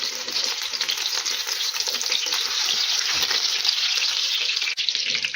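Marinated pork chops fry in a pan over medium heat, giving a steady, close crackling sizzle with bright spattering throughout and no talking.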